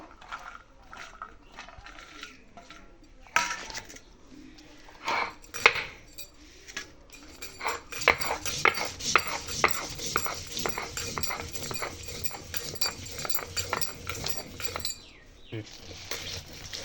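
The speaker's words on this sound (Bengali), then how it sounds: "এখন এটাকে আমি শিলপাটাতে বেটে নেব।" Coconut, chana and peanut chutney ingredients are ground by hand on a stone shil-pata slab. Quiet scraping starts intermittently, then turns into steady, rhythmic rubbing and clinking that grows busier through the second half, with no speech.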